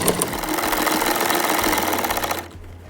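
A close, busy sewing machine rattles continuously while stitching elastic into the centre of trouser fabric, stopping abruptly just before the end.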